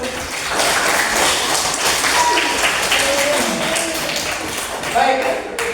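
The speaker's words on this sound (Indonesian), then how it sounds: "Beri aplaus untuk." Seventh-grade students clap together in a classroom, a dense, steady round of applause sustained throughout, close and fairly loud, with a few voices faintly mixed in.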